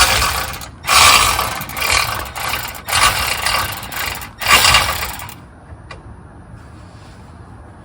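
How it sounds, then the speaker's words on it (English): A small hand ratchet works a bolt during service on a 2021 Honda Ridgeline, giving five loud bursts of rapid clicking about a second apart, then a quiet stretch with a couple of faint knocks. "I'm gonna use my little ratchet."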